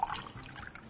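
Milk trickles into a pot of cooked pumpkin for pumpkin rice pudding, a brief close liquid pour lasting about a second.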